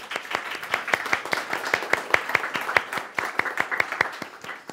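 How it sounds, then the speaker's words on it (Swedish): An audience gives warm applause as a speaker is welcomed onto stage at a talk, with steady, fairly rhythmic clapping from a modest crowd that keeps an even pace throughout. "En varm applåd till Annika."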